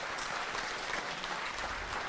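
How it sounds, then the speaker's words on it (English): A dense wash of applause from a meeting audience cheering first-time attendees, loud and continuous, with no gaps. "Can we get another round of applause for all those people?"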